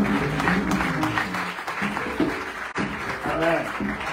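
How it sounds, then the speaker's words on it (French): Church congregation at a pastors' ordination breaking into applause and cheering to acclaim the Lord, a dense sustained clapping wash with voices rising through it over about four seconds. "Est-ce qu'on peut acclamer le Seigneur?"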